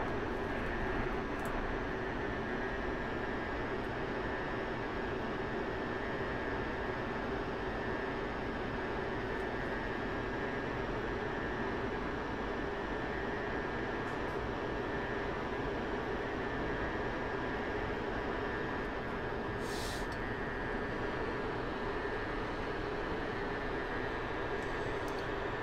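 A fighter plane engine in the flight simulator DCS World, a constant loud roaring drone with a steady whine, holding unchanged throughout with brief faint clicks.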